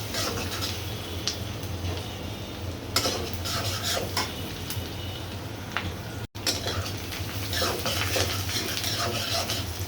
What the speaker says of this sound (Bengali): তারপরে পেঁয়াজ বাটাটা দিয়ে দিব